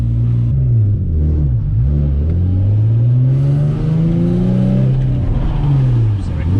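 A car engine revs loudly and close while drifting, its pitch rising and falling in sweeping waves with some talk mixed underneath.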